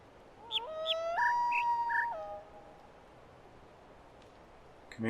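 A melodic, warbling bird cry from the video game The Witness: a string of stepped, whistling notes for about two seconds, then near silence and a faint new call at the end.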